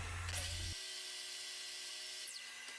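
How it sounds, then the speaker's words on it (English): A miter saw cuts wooden bed legs to final height: the motor spins up, a short bite through the wood, then a high whine winding down, close and alone. "I could go ahead and get them cut down to final height on the miter saw"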